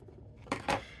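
Two quick faint snips of scissors cutting paper during a card-making craft session, close and soft, against a quiet room.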